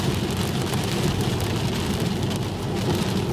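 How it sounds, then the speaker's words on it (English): Sleet pelts a Tesla Model 3 driving on Toyo Proxes Sport A/S tires at 31 degrees, a dense, constant hiss and patter with road rumble beneath and no talk. "So we got that sleet coming down that you can hear."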